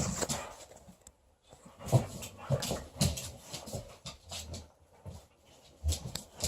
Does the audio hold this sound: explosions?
no